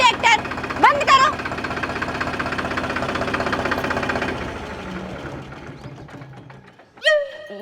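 A farm tractor with a hitched trolley runs at a steady close idle, its engine chugging loudly before easing down and fading, with voices talking briefly over it near the end.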